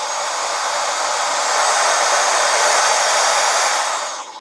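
A cordless 12-in-1 compressed air duster for computers, cars and keyboards runs with a steady, loud electric whoosh that builds slightly in the middle and tails off at the end, with no one talking.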